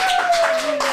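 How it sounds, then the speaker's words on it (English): Audience clapping for young actors at a kids' dramatic film acting showcase, a dense patter of hands filling the short moment alongside a sustained tone. "Let's give them a round of applause"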